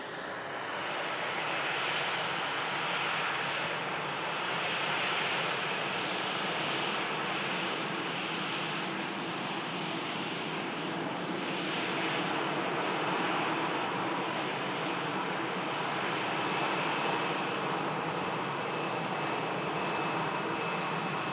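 An airliner touching down on runway 23R at Manchester Airport produces a sustained, broad engine roar that swells and eases over about twenty seconds, heard from some distance with no talk.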